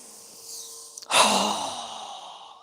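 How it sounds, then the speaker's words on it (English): One strong, forceful exhale through the mouth during a yoga breathing exercise, a sharp rush of breath that slowly trails off, heard close. "Strong exhale."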